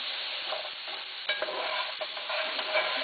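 Ground meat browning in a very old Teflon pan, a steady close sizzle with scattered scrapes and stirring knocks, no talk.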